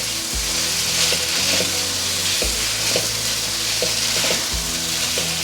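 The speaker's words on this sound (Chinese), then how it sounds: "先把豆干炒至微微的变色，变成浅金黄色" Dried tofu stir-fried in oil in a pan gives a steady, close sizzle. A spatula scrapes and knocks against the pan every couple of seconds, with no talk.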